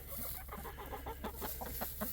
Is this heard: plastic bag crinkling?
no